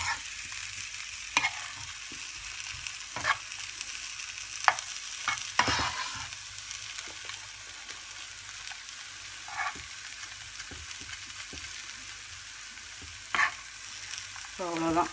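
Spices sizzling in hot oil in a pan while cooking egg masala, a steady close frying hiss broken by occasional stirring scrapes and clicks throughout.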